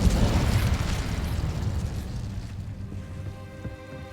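In Hogwarts Legacy, the Incendio fire spell erupts in a loud, roaring burst of flame that crackles and rumbles, then fades over a few seconds into a quieter tail under faint game music.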